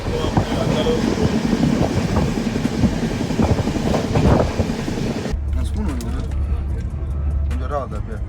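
A passenger train on the Chennai to Delhi route rumbles along the rails with a steady low roar and rattle, loud and close throughout, then shifts to a deeper hum with faint squeals.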